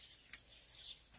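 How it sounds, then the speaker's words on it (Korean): Birds chirp and call outdoors on a farm where green onions are harvested in the morning, faint high twittering notes scattered over a quiet background with no talking. "새소리가 장난 아니죠?"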